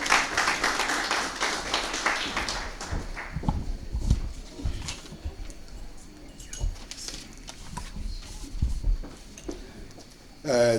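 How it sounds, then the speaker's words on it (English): An audience at a sports cup media launch bursts into dense applause that quickly fades to scattered, sparse claps and light pattering, followed by a brief swell of clapping again at the very end. "Ladies and gentlemen, round of applause for Mr. Chabalala"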